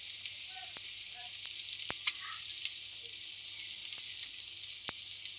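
Chopped onion and a five-spice tempering sizzle in oil for a banana-flower chow mein, a steady bright hiss with a few sharp ticks and pops.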